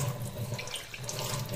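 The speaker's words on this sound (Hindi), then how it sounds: "ये जो है हमारे बोरवेल का पानी है, बोरवेल का, इसको भी भर लेते हैं" Borewell water runs from a tap into a container, a steady close splashing flow with a bubbling, filling tone.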